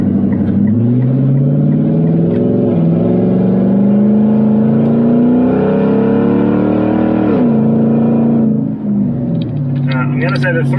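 4WD Nissan Patrol accelerating hard at full throttle on 35-inch mud tyres, a loud, close engine roar rising steadily in pitch for several seconds, then easing off with a drop near the end.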